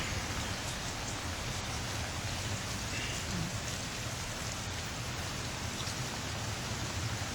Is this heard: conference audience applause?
no